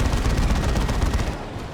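Heavy, sustained gunfire-like blasting from plasma cannon shots during a big Space Marines versus Chaos Space Marines engagement in Dawn of War 2, a dense, loud barrage that thins out near the end.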